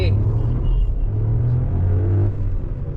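Skoda Kylaq launching hard with traction control off, a loud close engine roar with droning rumble as the wheels spin, a voice talking over it.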